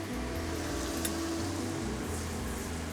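Butter sauce simmering and reducing in a pan while cooking rainbow trout, a steady soft bubbling sizzle that carries on close and even throughout with no talk.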